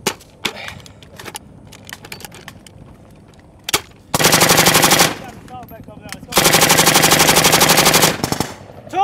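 Two long bursts of machine gun fire during a Marine Corps urban assault drill, each rapid and loud, separated by shouted commands and scattered nearby shots and clatter.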